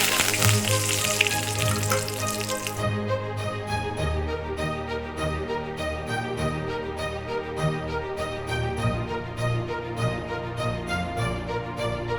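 Curry leaves fry in hot oil for pirandai chutney, a dense crackling sizzle that flares loudly at first, then settles into a steady, closer sputter with rhythmic ticks throughout.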